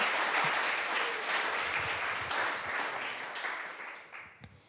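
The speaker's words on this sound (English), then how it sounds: "give yourself a round of applause real fast" A conference audience at Akademy 2025 breaks into a round of applause, dense and steady clapping that gradually thins and fades toward the end with a few last claps.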